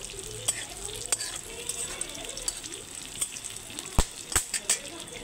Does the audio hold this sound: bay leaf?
yes